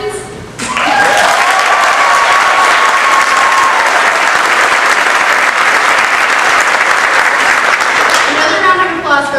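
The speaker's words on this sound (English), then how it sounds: "Another round of applause for our principal, Cliff Jones" An audience at a high school National Honor Society induction ceremony breaks into loud, sustained applause after a brief moment of speech, with the clapping filling nearly the whole stretch before easing at the end.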